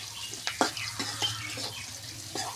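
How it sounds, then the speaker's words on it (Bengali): Onions fry in a home kitchen pan until browned, giving a soft, low sizzle with a few light spoon clicks and stirs. No one speaks. "পেঁয়াজটা দেখুন আমার বাদামি কালার মতো হয়ে গেছে।"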